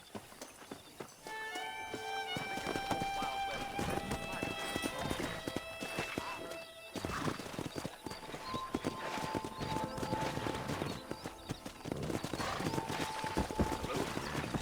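Horse hooves gallop in Red Dead Redemption 2 as a wild-horse herd is sought on a ranch, a steady run of clip-clops under game music with voices talking over it.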